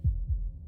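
Two deep, muffled heartbeat thumps land close together near the start, each a soft low pulse, followed by a quiet lingering rumble with no talking.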